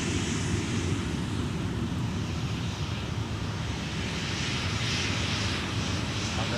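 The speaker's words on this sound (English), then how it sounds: "Delta arriving from Nashville with the A321." Delta Airbus A321 jet arriving at Minneapolis–St. Paul airport from Nashville, a steady loud engine roar with broadband rumble and light wind noise, sustained and unchanging throughout, no voices.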